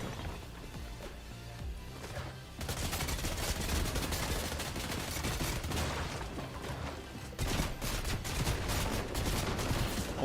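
Enemy gunfire in the video game Fortnite, dense rapid volleys of shots crackling continuously and loudly for several seconds, with a brief lull before the barrage intensifies again.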